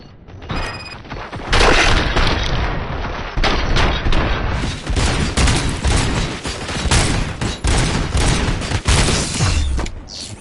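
Heavy gunfire in the RoboCop Rogue City video game: dense, loud bursts of shots and booms firing almost continuously, with crackling impacts and short gaps between volleys.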